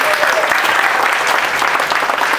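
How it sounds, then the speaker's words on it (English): Stand-up comedy crowd in Bucharest clapping steadily, a dense, continuous wash of applause filling the room for a couple of seconds, loud and close with no talk over it. "Round of applause for them."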